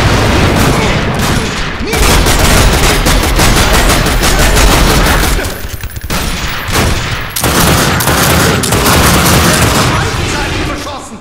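Gunfire in The Darkness 2, loud and continuous bursts of automatic shots with booming impacts packed close together, broken by a few short lulls.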